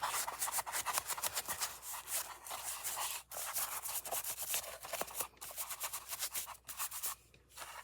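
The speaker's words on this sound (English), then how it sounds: "We'll put some dark wax on it, and it'll all come together." Steady, rhythmic rubbing of dark wax onto an old book, close and fairly soft, with repeated short strokes and brief pauses, alone without talk.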